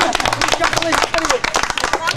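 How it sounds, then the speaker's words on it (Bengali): A crowd at an outdoor picnic gathering claps briefly in a loud, dense patter, mixed with overlapping voices talking over it. "হাততালি, এই জন্য একটা হাততালি।"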